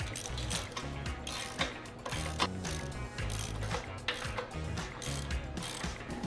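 A torque wrench tightens bolts to 60 foot-pounds on a MaxJax lift, producing continuous dense ratcheting clicks and metallic mechanical clatter, close and fairly loud throughout with no voice.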